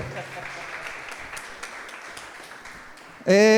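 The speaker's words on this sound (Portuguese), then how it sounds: "Um aplauso para o sacerdote." An audience applauds a priest at a live show, steady moderate clapping spread across the room, ending as a loud voice cuts in abruptly.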